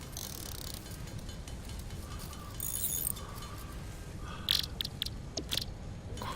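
Crafting screws in the video game Satisfactory produces faint mechanical clinks and ratcheting clicks. A few brighter metallic clinks cluster near the end over quiet background noise.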